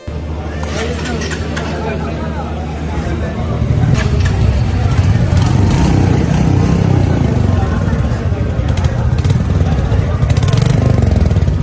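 A Royal Enfield cruiser motorcycle idles with a low, throbbing exhaust rumble, swelling louder after a few seconds and holding steady, close by under ongoing talk and background chatter.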